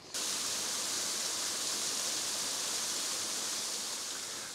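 Cheesden Brook, a six-mile moorland stream built up into little heads of water, flows with a steady, dense rushing hiss that stays even and close throughout, with no voices.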